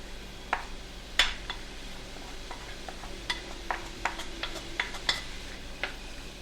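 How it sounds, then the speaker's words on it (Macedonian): Two large chopped onions frying in warm oil in a pan, a soft steady sizzle running under scattered clinks and scrapes of stirring utensils against the pan. "И тука имам и сецкано 2 главици големи кромит. Треба да чврчка. Ете, почна."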